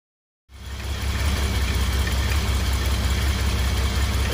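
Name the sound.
Jaguar car engine running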